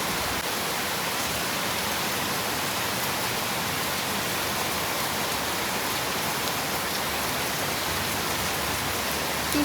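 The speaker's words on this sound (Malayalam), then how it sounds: "നല്ല രസമല്ലേ ഇതിങ്ങനെ മഴ പെയ്യുന്ന നോക്കിക്കാൻ" Steady rain pours down outside a home in Kerala as a dense, even hiss that stays unbroken and fairly loud throughout, with no other sound standing out.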